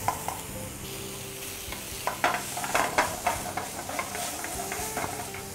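Chicken fries in a pan while being tossed, a steady close sizzle with rhythmic scraping and clattering strokes and faint hissing throughout, no talking.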